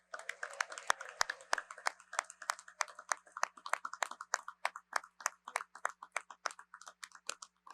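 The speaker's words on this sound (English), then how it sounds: "How about a nice round of applause?" Sparse, quiet applause from a small audience at the New York State Broadcasters Hall of Fame induction honoring John Murphy, individual claps standing out in an uneven patter that continues throughout.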